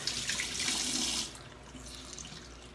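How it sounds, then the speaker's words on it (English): Tap water runs steadily over a damp beauty blender makeup sponge, a close hiss for just over a second before it drops to a quieter trickle. "I also use this beauty blender, but what I do is put it under water and it's damp."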